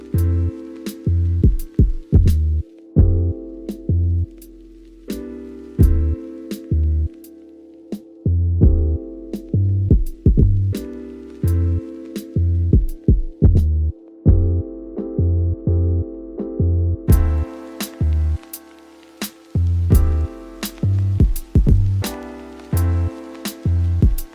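A sewing machine stitches the lining of a Barbie-style doll jacket, running in short loud bursts with regular rapid needle clatter, separated by brief pauses.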